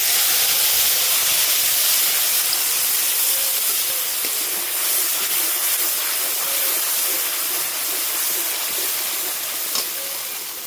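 Ground tomato, green chili and ginger paste with cumin sizzling in hot oil, a steady close hiss of frying that runs unbroken throughout with no talking over it.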